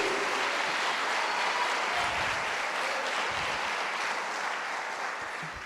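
Church congregation applauding in praise during a sermon, a continuous dense roar of clapping that stays loud and steady before easing slightly at the end.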